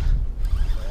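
A fishing reel cranks while wading in San Diego Bay, producing a brief, close, low mechanical whirring churn under wind rumble.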